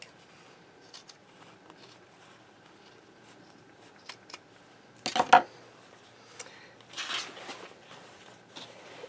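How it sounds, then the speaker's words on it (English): Scissors cut down the center of a jeans waistband seam: a few faint, quiet snips and rustles of denim, with one louder crisp cut in the middle and a soft scrape near the end. "So I'm going to cut that right down the center."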